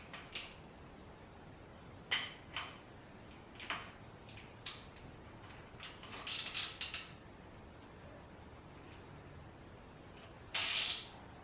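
A ratchet snugs the main bearing cap bolts on a Ford 460 engine build, making short, quiet bursts of clicking spaced irregularly between pauses, with one longer burst near the end.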